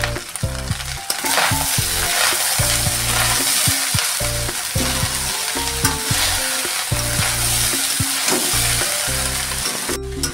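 Party-style fried rice is tossed and stirred in a hot pan, a loud, constant sizzle broken by rhythmic scraping and clattering strokes of the spatula, close up and with no voices.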